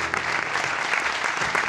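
A theatre audience at a tribute concert in Teatro Arlequín applauds, a dense, steady wash of many hands clapping at once.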